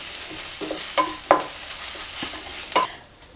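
Chilli powder and garam masala being sautéed in a pan for egg rice, with a spoon scraping and stirring in several short, close scrapes over a soft, steady sizzle.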